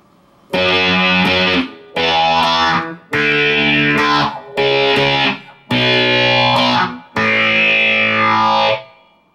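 Distorted electric guitar plays the third part of a riff, six loud chord stabs in a steady rhythm, each ringing briefly before cutting off, with no voice over it.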